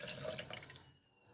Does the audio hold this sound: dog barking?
no